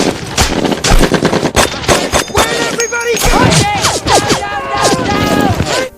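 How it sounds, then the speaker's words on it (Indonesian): Rapid German machine gun fire in loud, sustained bursts, mixed with ricochet whines and clanging, with a voice speaking over the shooting. "rentetan tembakan senapan mesin Jerman pun menghujani mereka"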